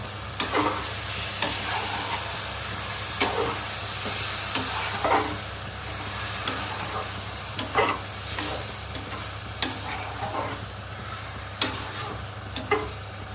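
A spoon scrapes and stirs soaked rice in a pot for bachelor-style egg biryani, with repeated scraping strokes at an irregular rhythm over a steady low hum, close and fairly loud, no talk.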